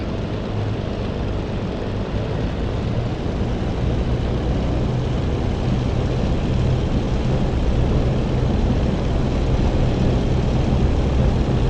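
A Bf109 fighter's piston engine in the flight simulator DCS roars at a steady high power through the takeoff run, loud and continuous with no pauses and no voices.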